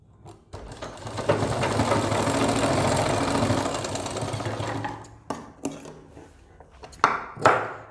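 A sewing machine runs steadily for several seconds, stitching elastic onto the waistband of an umbrella-cut palazzo, then stops and gives a few short clicks and handling knocks close by.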